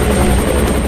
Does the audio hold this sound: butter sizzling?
no